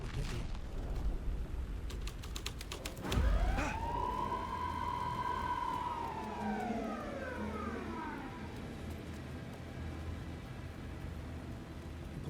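A police car siren in the video game Alan Wake II, starting after a low thump and wailing in a long rising then slowly falling sweep that fades out, heard alone without talk.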